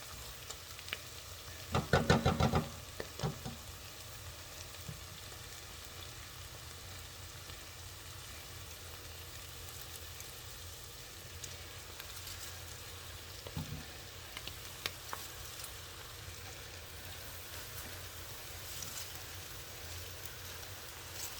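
Cabbage and seasoning go into a pot for Southern fried cabbage, with a short clattering thump of the addition early on, then a faint, steady frying hiss with scattered light taps.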